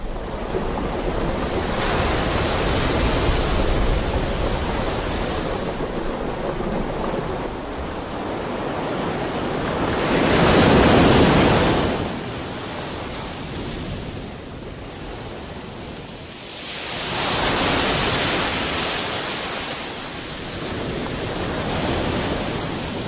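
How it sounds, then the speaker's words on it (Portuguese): Big ocean waves crash against a rocky Brazilian coastline at low tide, forming a continuous loud roar of surf with heavier surges swelling near the middle and again toward the end. "Na maré baixa, enormes ondas massacram a linha de costa."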